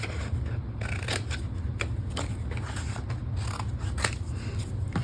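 Scissors snip steadily through a scrapbooking sticker, a close run of sharp, crisp cuts at an irregular rhythm over faint background hiss.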